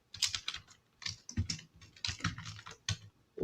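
Quick typing on a computer keyboard while coding a Django blog page, close crisp key clicks in uneven bursts with brief pauses.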